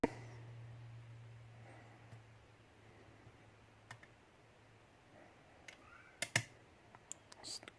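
Soft, sparse clicks of a pick setting pins in a FunKey MonKey no:26 challenge lock, a few isolated ticks over a low steady hum, growing slightly more frequent toward the end.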